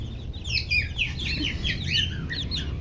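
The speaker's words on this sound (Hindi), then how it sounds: "ये मुर्गा है।" A rooster and hens in a backyard poultry setting give a run of high, chirpy clucks and calls over a low background rumble, fairly close and steady throughout.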